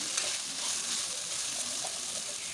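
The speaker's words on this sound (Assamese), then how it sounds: "আদা নহৰু পেষ্টটো এতিয়া ভালদৰে ইয়াৰ লগতে ভাজি ল'ম" Ginger-garlic paste fries alongside chicken pieces for a pulao, giving a faint, even sizzle and hiss that runs steadily throughout with no voices.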